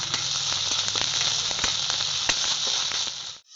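Ginger paste sizzling hard in hot oil, a loud dense crackle with scattered pops, steady for three seconds before cutting off abruptly.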